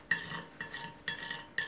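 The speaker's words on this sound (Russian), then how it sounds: "и полностью почищу сковородку" Repeated scraping strokes of a sponge against an old frying pan, about four rhythmic scrubbing passes, close and fairly quiet.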